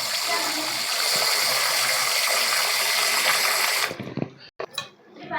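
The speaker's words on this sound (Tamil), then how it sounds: "இப்போ இதை நம்ம வாட்டர் விட்டு கொஞ்சம் வாஷ் பண்ணிக்கிறோம்." Water runs steadily over soya chunks being rinsed, a loud even gushing splash that cuts off abruptly near the end, leaving a few scattered clatters and drips.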